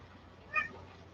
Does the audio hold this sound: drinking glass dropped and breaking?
no